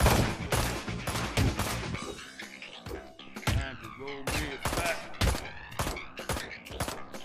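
Gunfire in the video game Road to Hell Retribution: a dense string of loud, close sharp shots in rapid irregular bursts, packed with fast volleys that ring out between them.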